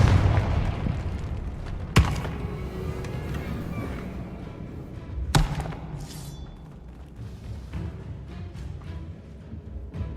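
A Confringo blasting spell explodes in the Hogwarts Legacy video game, with two sharp booming blasts about three seconds apart standing out over a dense, rumbling game soundscape.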